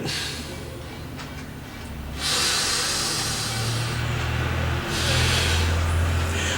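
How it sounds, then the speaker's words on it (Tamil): A long, steady breath pushed out through the left nostril during alternate nostril breathing practice, a soft hiss that swells and continues close up with no talking. "எடுத்த காற்றை சிறிது முன்னாடி வைத்திருந்து இடது பக்கமாக வெளிவிடுதல்"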